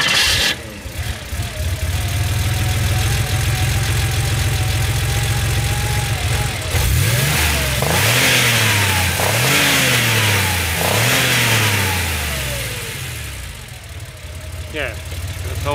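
A 1987 Porsche 911 Targa's air-cooled engine idles, then revs hard several times in rising and falling sweeps, loud and close, before settling back to a steady idle.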